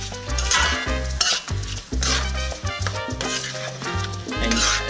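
Seasoned rice is stirred in a pot over high heat, producing loud, continuous close-up scraping and sizzling with rhythmic spoon strokes and no talk.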